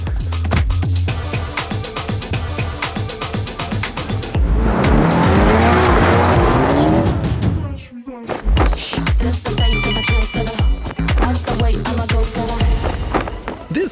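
Quick cars under $35,000, including Mini Coopers, a Mazda and a Toyota, race in a drag race with loud engine roar, screeching tyres and skidding bursts, a sharp pause midway, then more revving and wheel noise.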